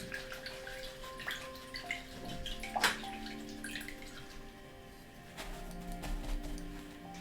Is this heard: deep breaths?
no